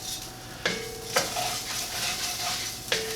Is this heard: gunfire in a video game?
no